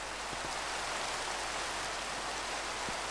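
Steady Minecraft rain hisses evenly throughout, a constant wash of falling water with a couple of faint soft taps in the background and no voices.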